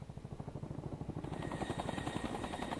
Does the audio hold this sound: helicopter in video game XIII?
yes